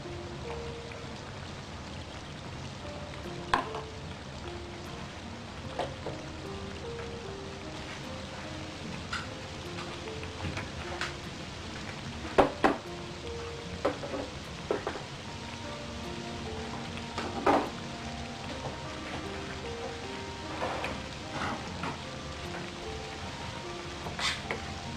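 Veg Manchurian vegetable balls deep frying in oil make a continuous bubbling, rain-like crackle with scattered sharper pops, steady and moderately close throughout.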